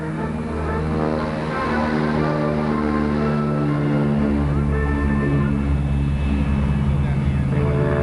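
A Douglas DC-3 fitted with large floats takes off, its twin piston engines producing a loud, steady, close droning roar with strong low harmonics that holds throughout.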